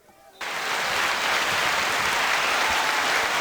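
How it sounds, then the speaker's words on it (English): Crowd applause breaks out suddenly at a high school varsity football game after a tackle, a dense, steady roar of clapping from the stands that holds at full strength for about three seconds. "Give him a round of applause for that tackle"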